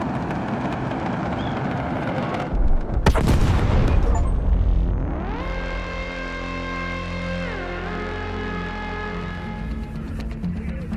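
Orbital bombardment in the video game Arc Raiders strikes the surface with a massive booming explosion, a loud burst around three seconds in followed by a deep rumble and rising, sweeping tones that sustain to the end.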